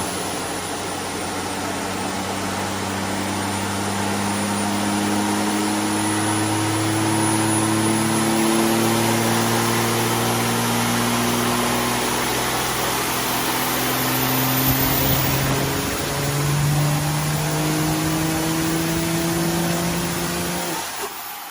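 A diesel project truck with a 476 SXE setup and upgraded ON3 intercooler roars through a sustained dyno pull, engine note climbing steadily and loudly for the whole run with a brief dip near the end, no talking.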